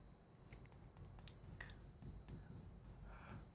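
Faint scratchy strokes of handwriting during a classroom lesson, short marks in irregular bursts, quiet and close with a soft room hiss behind them.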